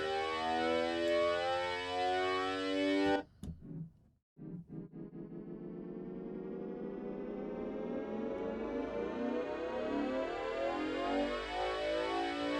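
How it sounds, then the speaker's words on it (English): A synth tone cuts out briefly, then returns as a sweeping riser whose pitch climbs steadily for several seconds, loud and alone with no voices. "So now we've got something very pleasant happening on our riser."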